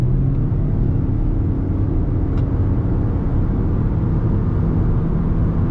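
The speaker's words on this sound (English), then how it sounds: "You can feel some vibration from the engine." Cabin drone of a 2022 Toyota Corolla Hybrid with about 2,800 miles, engine running on a test drive: a steady, loud low rumble and road noise with faint vibration, continuous throughout and no talking.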